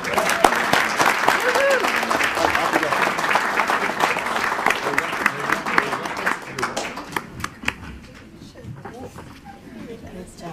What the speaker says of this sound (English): If everybody could please give a round of applause for these wonderful people.